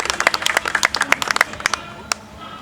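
Scattered hands clap in uneven bursts at a political rally, a couple of dozen sharp claps for about a second and a half that quickly thin out to a few stragglers, fairly close.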